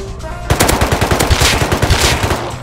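An automated turret in the game Rust fires a rapid, loud burst of gunshots at close range, the rounds coming in quick even succession for about two seconds after a short lull.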